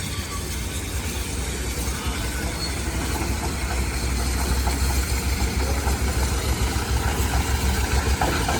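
A steam engine runs steadily as it rolls past in a farmers and threshermen's jubilee parade, giving a continuous loud low rumble and chuffing with no talk over it.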